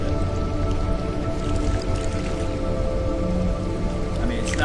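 Steady rain falls and patters on surfaces in a persistently wet outdoor spot, a dense, even hiss with soft drips running loud and constant throughout, no voices.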